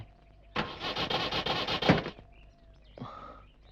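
A car engine is cranked and fails to catch: a loud, steady starter whir grinds for about a second and a half, stops, then a brief second attempt sputters out, with no talking.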